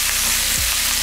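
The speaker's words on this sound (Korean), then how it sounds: "자, 참기름에 고기를 볶아줄 겁니다." Beef frying in sesame oil gives a loud, dense, continuous sizzle, close and steady with no gaps.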